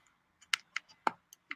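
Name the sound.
typing on a computer keyboard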